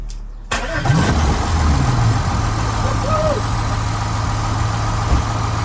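An Audi A6 engine, after timing chain and flywheel repair, cranks and catches after a brief pause, then settles into a steady, loud idle that runs on without a break.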